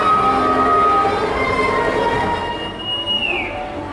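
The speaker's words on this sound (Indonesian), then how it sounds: "Ini kereta wisata Ambarawa diberangkatkan kembali dari jalur 1 stasiun Tuntang ya, menuju stasiun Ambarawa." The Ambarawa tourist train pulls out of track 1 at Tuntang station, bound for Ambarawa, with a loud, close metallic wheel squeal and tonal whine that fades over a few seconds.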